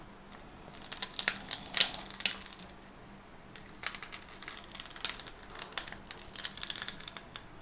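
Rice flour dough for idiyappam squeezed through a hand press onto the top plate, giving soft crinkly crackling bursts in short clusters, close and fairly quiet, with no talking.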